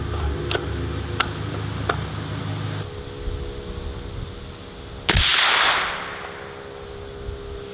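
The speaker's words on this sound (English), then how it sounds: "All right, so I'm shooting a 308 Midwest Industries." A .308 Midwest Industries rifle fired outdoors, several sharp, distinct cracks spaced about a second apart, then one louder close shot with a lingering rumble.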